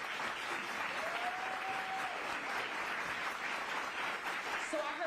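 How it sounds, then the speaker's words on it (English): An audience gives panelists sustained, even applause at a community equity discussion. The clapping is dense and steady but fairly soft and distant, with a brief whistle-like tone partway through. "Let's go ahead and give our panelists a round of applause."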